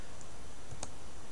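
A single sharp computer mouse click, close and crisp against a steady faint background hiss, with no talking.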